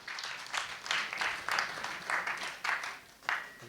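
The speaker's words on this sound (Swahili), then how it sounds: "Tumbe Mungu wetu makofi." Church congregation applauding during a service, uneven bursts of clapping that swell and fade in a loose rhythm of repeated surges, moderately faint and somewhat distant, with no speech over it.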